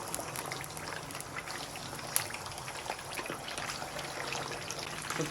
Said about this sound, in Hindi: तो चिकन लेग यहाँ पर बहुत ही अच्छे से फ्राई हो रही हैं।